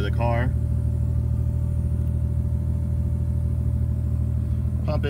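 Toyota MK3 Supra with a 7MGTE engine idling, heard from inside the cabin after a fuel cell install, a steady low rumble with a constant hum from the fuel pump, and brief voice bits at the start and end.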